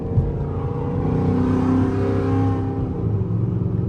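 A Chrysler 300C with a 5.7L HEMI V8 revs loudly from quick taps of the throttle, a deep rumbling engine note that swells and holds, then eases off near the end, with no talking.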